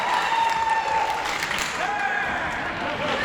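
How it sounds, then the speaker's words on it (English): A Wrestle Rampage wrestling crowd cheers and applauds loudly throughout, a dense roar of clapping and shouting with a commentator's voice running over it. "This crowd is on fire from the get-go."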